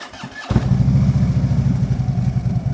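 A motorcycle engine cranks and catches after a moment of quiet, then settles into a loud, close, lumpy idle with a steady pulsing rhythm.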